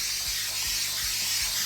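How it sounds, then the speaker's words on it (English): An aerosol can sprays continuously in a bright, steady hiss during a boat pedestal seat repair, close and loud, with faint low knocks underneath. "I am just spraying a bunch of this stuff on here."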